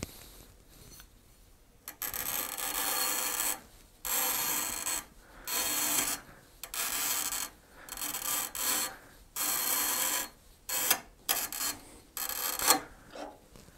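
A glass cutter wheel is pressed against a glass bottle spinning on a wood lathe, giving harsh, gritty rasping in repeated bursts of a second or so, with brief quiet gaps between them.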